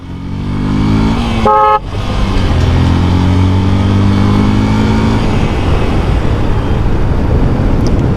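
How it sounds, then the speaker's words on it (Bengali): A motorcycle engine at a fuel pump revving hard and close, a loud sustained roar with a brief horn toot near the start, rising and holding steady before settling into a continuous rumble. "ওফ একটু রেভ করতে মজাই লাগে"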